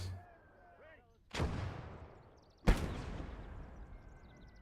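Mortar battery firing in the Gates of Hell war game, two loud booming launches a second or so apart, each with a long rumbling decay, following a faint voice-like tone at the start.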